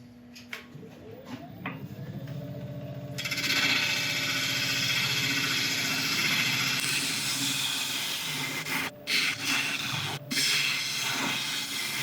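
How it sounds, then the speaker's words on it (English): A woodturning tool is sharpened on a grinder, giving a steady loud hiss with a running motor hum underneath and a couple of brief breaks near the end. "I'll quickly sharpen up again and we'll carry on"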